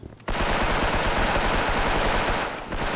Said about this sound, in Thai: มันยิงอัดผมเลยว่ะ ไอ่ไหนผมก็ยิงอัดคืนบ้าง